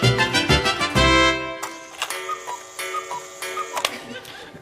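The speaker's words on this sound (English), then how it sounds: "any radio shows containing product placement will feature this automated sound." Automated radio ticking cue, a burst of bright clock-like tick-tock beats followed by sparse sharp ticks over a faint tonal bed, moderately quiet with no talking.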